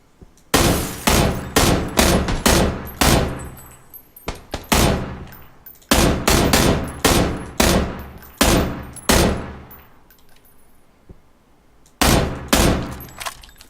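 Bursts of automatic rifle fire in PUBG (Battlegrounds), loud rapid volleys of sharp shots in several clusters separated by short pauses, near and dominant.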